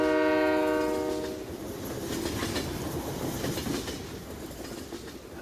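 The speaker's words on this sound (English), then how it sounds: "Good lord, that train is noisy." A noisy train in Farming Simulator 19 sounds a loud, sustained horn at the start, then rumbles past with rhythmic clickety-clack wheel noise that slowly fades, with no speech.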